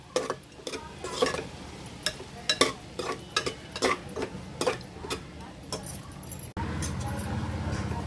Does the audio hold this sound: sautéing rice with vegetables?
yes